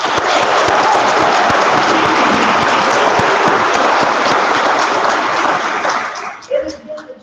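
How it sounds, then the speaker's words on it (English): A large graduation crowd for the Anderson 5 Charter School class of 2018 claps loudly and continuously, the dense applause holding steady before thinning out near the end. "One more round of applause."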